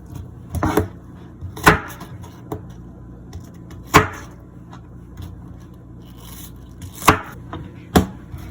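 A knife chops a peeled onion into cubes on a cutting board, giving a handful of sharp, separate knocks spaced irregularly, close and fairly loud against a quiet background.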